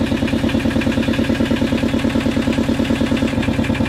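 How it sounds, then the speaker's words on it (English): A boat's diesel engine idles nearby with a loud, steady, rapid chugging thrum that holds an even rhythm throughout. "The diesel engine is simple to maintain."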